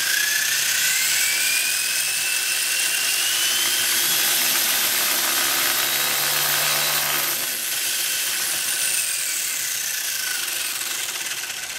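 An RC car's electric motor on a 1/10-scale dyno, held at about half throttle, gives a loud, steady high-pitched whine that is close and alone, with slight pitch shifts and a brief dip near the end.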